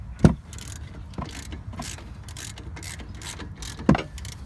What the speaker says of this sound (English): He's loosening something up. The bolts in the back. The brake caliper.